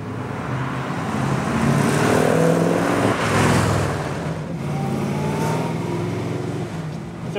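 A Holden Torana XU1 V8 replica with a stroker engine and a fair-sized camshaft drives along. Its loud, steady engine drone swells and eases through gear changes, with a rough low growl and no talking.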